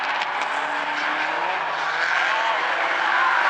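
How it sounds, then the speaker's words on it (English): Stinger 8 race cars roar through a right-hand corner at South Sound Speedway, a dense, continuous engine wail with overlapping cars and faint tire squeal, steady and loud throughout. "As Florick leads the field back into the right-hander."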